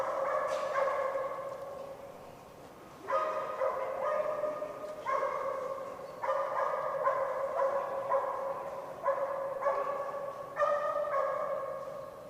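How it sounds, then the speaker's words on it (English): A dog named Bourbon barks repeatedly at a dock-jumping distance event, steady rhythmic barks with a few short pauses, fairly close and loud over outdoor background noise. "Can hear Bourbon back there barking."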